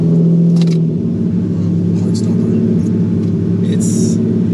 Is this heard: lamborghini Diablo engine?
yes